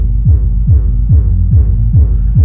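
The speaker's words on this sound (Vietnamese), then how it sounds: "súp đánh quá lực luôn, rất là sâu" Deep, booming subwoofer bass thumps through a sound system pulse in a steady rhythm, about two per second, loud and heavy with a low rumbling hum beneath.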